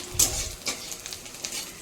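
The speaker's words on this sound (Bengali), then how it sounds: "পেঁয়াজ ভাজছি কারণ মসুর ডালে ফোড়ন দেবো" Onions fry in a pan for a lentil tempering. A soft sizzle runs underneath while scattered scrapes and stirring knocks rise above it, close and moderately quiet, with no voices.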